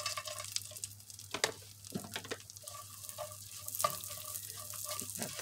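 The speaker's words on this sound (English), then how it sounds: "I'm gonna throw in about a handful of these bacon crumbles." Bacon crumbles sizzle quietly in a pan, a faint, steady crackle with scattered pops and scraping stirs, no voices.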